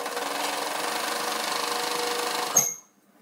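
Overlock sewing machine running steadily as it locks the edges of sweatshirt fabric, a loud continuous whirring hum for over two seconds before it winds down and stops, with no talking.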